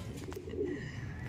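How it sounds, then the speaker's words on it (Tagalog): Racing pigeons cooing softly in their loft before a south race, a low continuous murmur of coos carrying through steady background noise. "Yan yung mga ibon natin."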